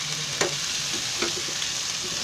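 Ingredients for Pharsan Chivda bhaji sizzling in a hot pan while being stirred, a steady bright frying hiss with a few soft scraping strokes of the spoon, close and alone.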